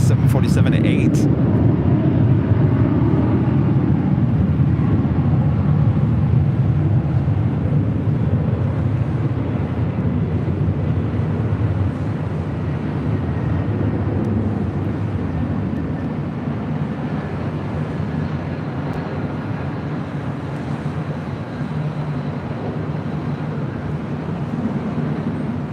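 A Cargolux Boeing 747-8 cargo jet lands at LAX. A continuous low rumble and rushing roar slowly eases off in level, with faint radio-like chatter underneath.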